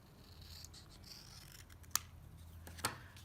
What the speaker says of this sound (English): I'm just going to take my snips and I'm going to cut it down the middle or close to the middle.